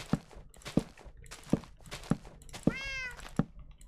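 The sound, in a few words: cat meowing behind a wall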